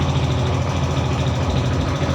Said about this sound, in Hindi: ये जब तक मेरी बैटरी चार्ज रहेगी तब तक ये मेरी बाइक स्टार्ट रहेगी।